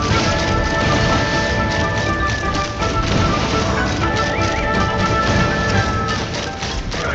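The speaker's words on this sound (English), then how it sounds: "Here comes the dust storm" A dust storm in Genshin Impact roars as a dense, loud, continuous rushing noise with crackling texture and rumble, steady across the whole stretch with no talk.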